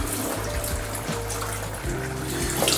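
Cooked rice rinsed under a running kitchen tap, a steady close splash of water into a sink with rising and falling flow and faint clatter, no talking.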